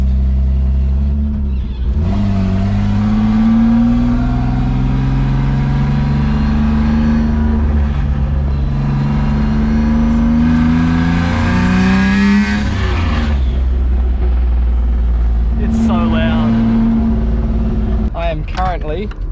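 A turbocharged BMW E36, smelling smoky and oily, accelerating on boost from inside the cabin, the engine note climbing steadily through rising harmonics before a brief lift and another pull, with a voice talking over it.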